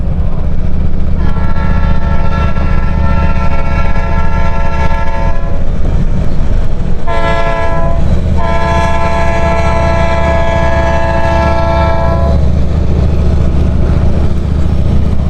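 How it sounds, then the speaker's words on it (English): Loud train horns blare in two long sustained blasts with a brief gap, over a constant low rumble of a passing train. "Love the train horns"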